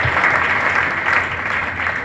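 An audience at a Hindi poetry gathering claps together in a dense, continuous round of applause that fills the whole short moment at steady loudness.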